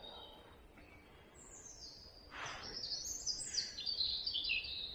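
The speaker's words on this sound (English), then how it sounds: "there's quite a few different species of birds there. Certainly very vocal." Several wild birds chirp and sing on a countryside walk near Bradley, Staffordshire, with bright overlapping tweets and calls, moderately distant, over a soft outdoor background hiss.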